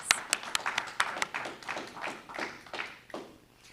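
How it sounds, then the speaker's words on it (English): Scattered hand claps from an audience at the 2020 WNC Agricultural Hall of Fame ceremony honoring Commissioner Troxler: a run of sharp, distinct claps that thins out and fades to quiet. "Let's give him one more big round of applause."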